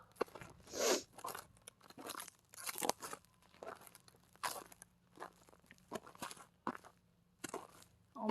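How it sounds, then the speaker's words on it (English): Footsteps crunching on snow and ice outdoors during a winter storm on a homestead, a steady series of close, crisp crunches about one per step, with wind noise between them. "I can hear things crunching underneath me."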